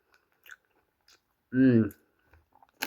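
Crisp crunching and biting of a sweet and spicy snack mix of roasted red lentils, split Bengal gram, chickpeas and flour noodles, a few scattered close bites with a short voiced murmur in the middle.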